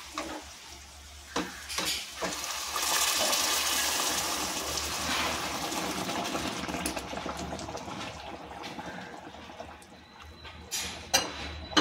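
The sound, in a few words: boiled water poured into pot for biryani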